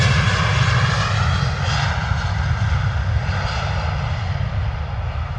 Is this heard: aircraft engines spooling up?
yes